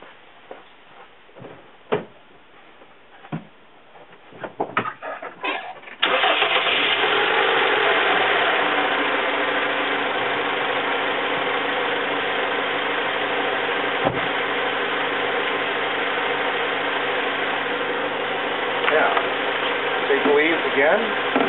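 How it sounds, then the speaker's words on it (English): A car engine cranks and catches after a few seconds of quiet clicks and handling noises, then settles into a steady, loud idle that holds to the end, with a faint rattle now and then. "So, anyway, we're going to start the car, and then what we're going to do is read this again."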